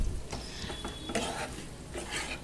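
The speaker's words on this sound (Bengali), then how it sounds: "আমি হাতার সাহায্যে এরমভাবে মেশাচ্ছি" Ladle stirring mashed potato mixed with onion, tomato and spices in a pan, a run of soft scraping, clinking strokes with a faint sizzle underneath, close and fairly quiet.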